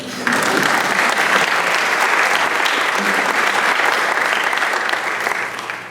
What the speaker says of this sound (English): will you give yourselves a great big round of applause?